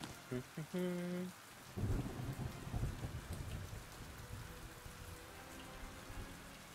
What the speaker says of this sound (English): Don't know many games where you heal just by standing out in the rain, getting soaked through.